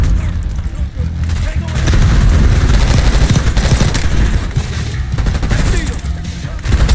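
Call of Duty Black Ops 6 firefight, with sustained dense gunfire and rattling bursts running throughout, close and loud, as voices talk over the shooting.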